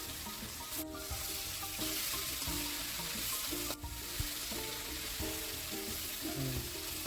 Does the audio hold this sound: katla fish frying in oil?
yes